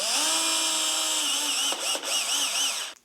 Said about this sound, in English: on each one I'm going to mark, pre-drill, countersink, and then I'm putting in a number 6 screw